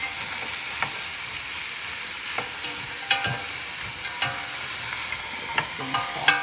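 Vegetables for Manchow soup sauté in a hot pan, a continuous bright sizzle broken by occasional sharp stirring clicks and scrapes, close up with no talking.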